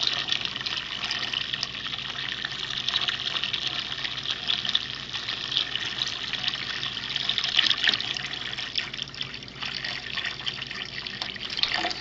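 Grape juice from a wine-making kit pours steadily into a container as it fills toward the five-gallon mark, a continuous close splashing trickle with no talk.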